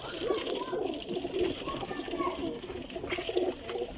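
Sialkoti pigeons coo in soft, repeated murmuring calls close by, a steady low burble throughout with faint background noise.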